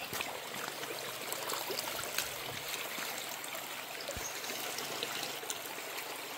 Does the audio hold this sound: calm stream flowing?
yes